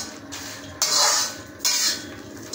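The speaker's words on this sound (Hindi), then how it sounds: "तो इसको ऐसे चलाते चलाते रहूँगी" Green chickpeas being stirred in a pan: two bursts of scraping and rattling against the metal, each lasting about a second, close and fairly soft between quieter pauses.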